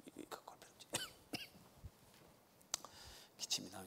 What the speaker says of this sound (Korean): 기침이 나오니까 조금 이렇게 합시다.